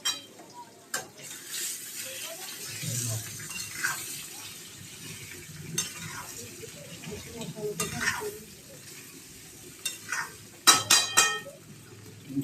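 Masala potatoes frying in a pan while a spoon lifts and tosses them, a low steady sizzle broken by scraping and sharp metal clinks, close up, no speech.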